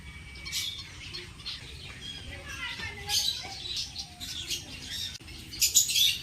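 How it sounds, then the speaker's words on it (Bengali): Small aviary birds chirp and tweet in quick bursts, with the occasional flutter of wings over a low background hum. "ছোট্ট ছোট্ট পাখি"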